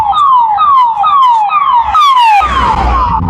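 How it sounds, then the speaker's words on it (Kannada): Loud, close ambulance siren wailing in repeated descending sweeps, heading to a hospital near Dharmasthala, with road noise rising as it passes by at the end. "ಆಂಬುಲೆನ್ಸ್ ಹೋಗ್ತಿದೆ, ತೋರಿಸ್ತೀನಿ"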